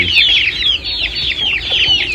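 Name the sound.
hen clucking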